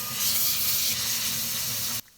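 A pork shoulder steak sizzles as it hits piping hot oil in a frying pan, a loud, steady broadband hiss that holds for about two seconds and then cuts off abruptly.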